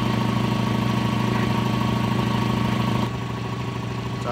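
A Vevor 2hp electric motor driving a 3hp air compressor, running steadily with a loud mechanical hum and rhythmic knock, close by, dropping slightly in level near the end.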